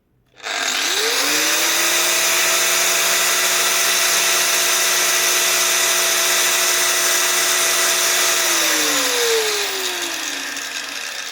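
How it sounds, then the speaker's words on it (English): An Einhell 850 watt angle grinder with no variable speed, powered from a portable power station, spins up to a loud, steady high whine, holds it for several seconds, then winds down as the motor slows. "I have this Einhel angle grinder, again rated 850 watts, no variable speed, no sophisticated electronics"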